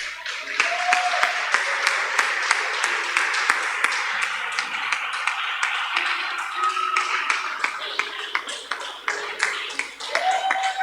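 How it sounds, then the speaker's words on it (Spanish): A church congregation applauding and cheering during a Sunday service, a dense, steady wash of many hands clapping that lasts throughout, with faint tonal notes and scattered voices underneath. "dale fuerte tu aplauso"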